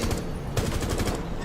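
Rapid shotgun blasts in a first-person video game crackle in a quick, dense burst of sharp reports, moderately loud, with a brief pause before the volley resumes.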